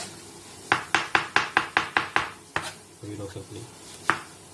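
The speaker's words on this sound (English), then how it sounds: "the cucumber. So we cut the small pieces" A knife chops cucumber into small pieces on a cutting board, nine quick, sharp, evenly spaced knocks followed by a couple of slower single strikes, close and clear, with a brief murmur of voice in between.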